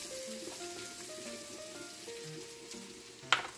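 Chopped onion drops into a hot pan for linguine with oysters and sizzles quietly and steadily, with a brief sharp clink near the end.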